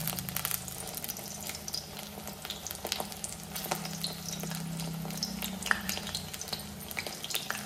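Vada, fasting fritters, deep-frying in hot oil with a steady, close sizzle and crackle throughout, and no voices over it.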